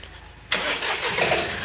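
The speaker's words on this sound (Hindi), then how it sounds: "भाई देख लें क्या शानदार आवाज़ है बोलेरो की" A Bolero B6 car engine cranks and fires up abruptly after a moment of low background, settling into a loud, steady running rumble close by.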